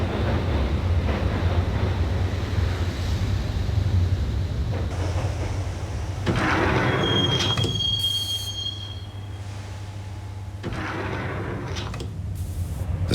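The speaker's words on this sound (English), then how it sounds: "the train doors had already shut behind me, and I was in for the ride" A subway train ride in the Max Payne video game, with a loud continuous rumble of the rolling carriage, a wheel squeal partway through, and a sliding door shutting with a brief thud as the noise shifts.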